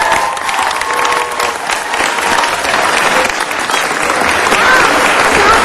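Loud applause fills a city council meeting as the chamber claps for visiting elementary school students, a steady, dense roar of many hands that builds slightly toward the end, with faint voices mixed in.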